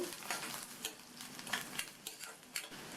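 Tamarind pieces sautéing in a hot pan for mint chutney, giving a steady close sizzle broken by scraping stirs every half second or so, with no voices.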